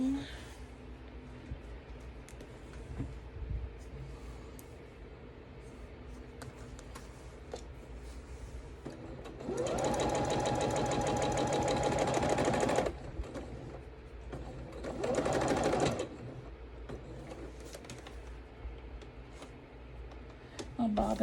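Home sewing machine stitching quilt pieces in two short bursts, the first about three seconds and the second shorter, with a bobbin tangle; quiet room noise and handling sounds fill the gaps.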